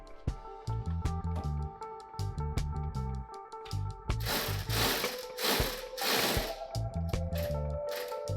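A ratchet tightens the rear caliper bracket bolts on a 2005-2016 Honda CR-V during a brake replacement. Close, crisp runs of clicking pawl strokes come in bursts with short pauses between them, and a few louder, harsher passes fall near the middle.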